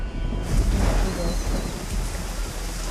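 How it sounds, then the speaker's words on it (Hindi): Heavy rain pours down in a historical Indian film scene, a dense, continuous hiss of downpour over a deep, low thunder-like rumble, steady and loud throughout. "बारिश आ गई"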